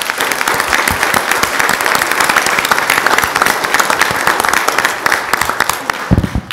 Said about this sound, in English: Now let's have a round of applause for all the candidates.